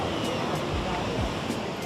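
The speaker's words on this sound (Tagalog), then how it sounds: "Lalakas ng alon, grabe." Loud, continuous roar of strong ocean waves and surf at a Manila seaside, broad rushing noise mixed with wind buffeting on the microphone.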